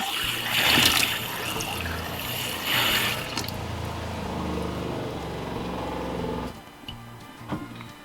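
Water runs from the hot tap of a Ford Transit camper van's newly installed plumbing, a close steady rushing flow with a pump hum beneath, a couple of louder splashy surges, then quieting near the end.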